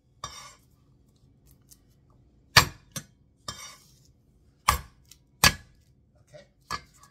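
A high carbon steel cleaver smashes and chops garlic cloves on a board, giving sharp, separate knocks, a few loud thwacks among lighter taps, spaced irregularly against near silence.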